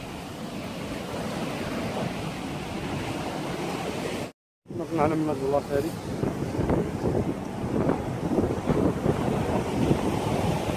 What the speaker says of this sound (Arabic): شوف البحر شحال مهزوز